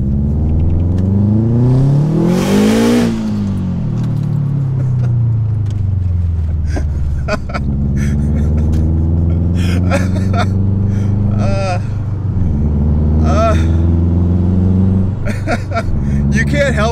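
A 2006 Subaru WRX STI with an external wastegate revs hard and accelerates, a loud engine roar sweeping up and down through several gear changes with sharp flutter and whoosh bursts, heard from inside the car.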